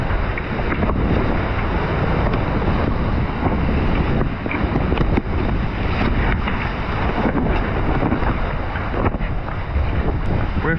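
At sea off Cape Horn, gale winds of 30 to 40 knots roar steadily with heavy wind buffeting on the microphone while waves rush past a racing sailboat, constant and loud with no speech.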